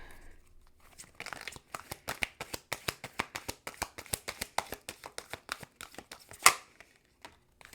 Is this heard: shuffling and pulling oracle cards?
yes